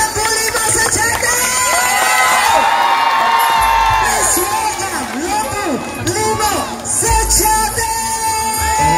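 A crowd cheers, whoops and shouts loudly and continuously at a live outdoor sawer music show in Lesanpuro, Kedungkandang, with music and voices mixed in throughout.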